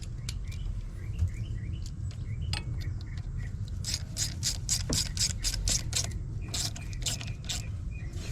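A ratchet on the intake hose clamp of a 2019 Chevrolet Sonic clicks in quick, close bursts over a steady background hum. Faint chirps can be heard in the distance.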